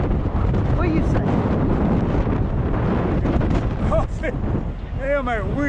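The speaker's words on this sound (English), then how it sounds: "you're probably not going to hear nothing but the wind on the camera" Strong wind buffets a camera microphone outdoors at a truck stop in Gaston, Indiana. The loud, steady low rumble covers the whole stretch, and a few faint voice fragments poke through near the end.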